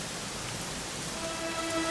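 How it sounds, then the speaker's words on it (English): Steady rain pours in the video game Dragon Quest XI, a dense even hiss of falling drops with no pauses. "it was raining like this"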